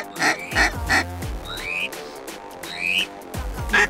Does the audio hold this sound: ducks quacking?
yes